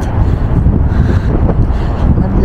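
Cold wind outdoors in Odaiba, Tokyo, buffets the microphone with a loud, low, rumbling roar that swells and dips throughout.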